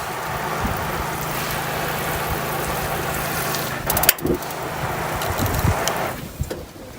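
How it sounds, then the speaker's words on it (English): A Camplux portable gas water heater burns with a steady burner-like roar throughout, broken near the middle by a sharp spark-ignition click and a brief burst of crackling flame, then continuing. "try and get the sound of the spark and the flames when it starts up"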